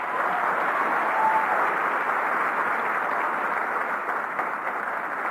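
Audience applause at a live show, steady broadband clapping that holds at an even level throughout, no voices.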